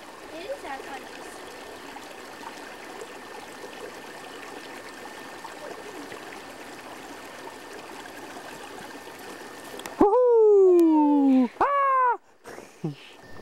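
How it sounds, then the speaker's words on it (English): A fast Nova Scotia river rushes steadily with broadband water noise for about ten seconds, then cuts off and gives way to loud, close, rising tonal squeals. "I would now try to cross the raging river"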